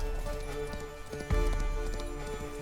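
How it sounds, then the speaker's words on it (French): Horse hooves gallop in a steady drumming clip-clop, loud and close, with a heavier thud partway through, forming a sound effect for a fantasy tale of goblins charging on small bareback horses. "vous entendez un martèlement de sabots lancés au galop"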